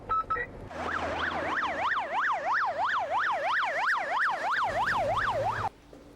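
Wailing ambulance siren sweeping steadily up and down in a fast, regular rhythm, loud and close, running continuously for about five seconds before cutting off, with no talk over it.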